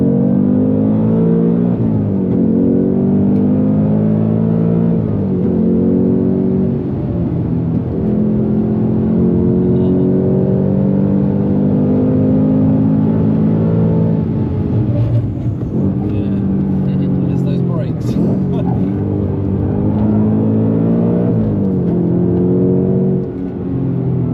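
A Steeda Q767-tuned Ford Mustang Dark Horse V8 drives hard around the Nürburgring, its loud in-cabin engine rising and falling through repeated accelerations and gear changes for the whole stretch, with no talking.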